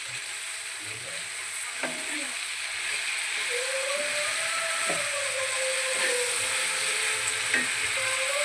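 Gongura (sorrel leaves) fry in hot oil with a steady, close sizzle throughout, while a spoon or spatula scrapes and stirs the pan now and then, making occasional clicks.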